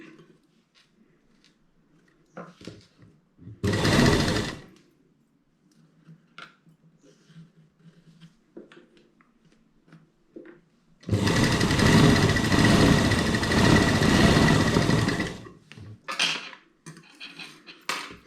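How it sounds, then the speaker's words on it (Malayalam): A sewing machine stitches along the edge of a piece of fabric, running in two close, steady mechanical bursts: a short one, then a longer one of about four seconds. Soft handling clicks fall in the quiet gaps between them. "അതുപോലെ ഇപ്പുറത്തതും കൂടെ അങ്ങനെ തയ്ക്കുക"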